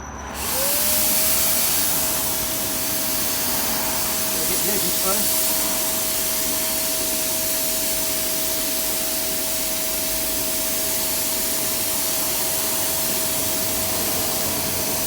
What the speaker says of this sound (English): What we're going to do is going to spray it. It's going to be a bit noisy.